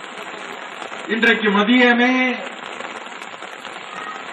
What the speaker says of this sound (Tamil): ஆனால் அதே போல இன்றைக்கு மழை வந்துவிட்டது.